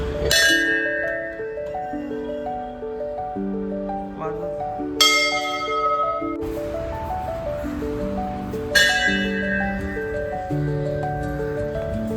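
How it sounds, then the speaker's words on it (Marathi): A temple bell rings at a goddess shrine on a New Year morning: three bright metallic strikes spaced several seconds apart, each ringing out over steady background music. "घंटा"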